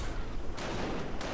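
Bren light machine guns and rifle grenades firing during a World War II strategy game, heard as a dense, continuous rumble of gunfire broken by two sharp, loud bursts close together.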